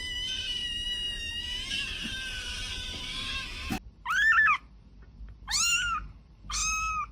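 A dramatic pet cat lets out three loud, drawn-out meows in quick succession, each rising and falling, after a stretch of quieter background sound.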